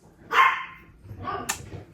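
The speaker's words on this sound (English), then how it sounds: "But the dogs tend to freak out." Dogs bark close by, one sharp bark followed by a second, rougher bark and a yip, loud against a quiet room.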